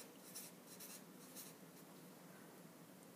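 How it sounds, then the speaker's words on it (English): Pen or pencil writing notes by hand on paper, faint continuous scratching strokes close up with no talk. "Won't hurt you to write it down more than once."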